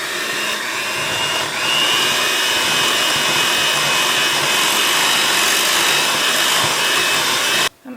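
An electric mixer runs continuously through sweet potato pie filling in a bowl, a loud steady motor whine that cuts off abruptly at the end.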